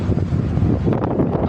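Strong wind blowing across a high rooftop in a Vietnamese city, buffeting the microphone with a loud, steady low roar that gusts slightly throughout, with no talking.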